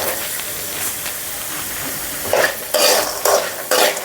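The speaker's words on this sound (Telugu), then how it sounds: "ఇవి మాడకుండా సిమ్లో పెట్టుకోవాలి, లేకపోతే వేలుతాయి ఇవి టప్ టప్ అని" Crispy evening snacks frying in hot oil make a steady, loud sizzle that swells into several bursts of stronger crackling toward the end, with no talk.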